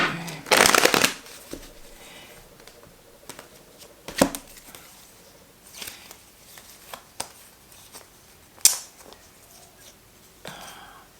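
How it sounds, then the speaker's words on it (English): A deck of tarot cards being shuffled in a loud burst, followed by scattered softer riffles and taps of cards being handled. "Give these cards a good shuffle."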